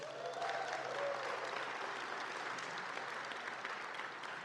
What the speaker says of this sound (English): Round of applause real quick.